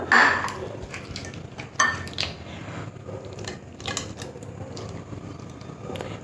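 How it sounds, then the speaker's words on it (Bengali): Prawns are stirred into a spice masala with mustard oil for Bengali chingri bhapa. Utensils clink and scrape against a bowl in scattered close taps over a steady low background, with no talking. "চিংড়ি মাছগুলো এই মশলার মধ্যে ভালো করে মিশিয়ে নিতে হবে"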